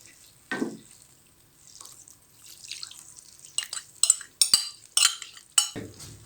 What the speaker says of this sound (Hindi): साथ साथ चम्मच चलाते जाएंगे।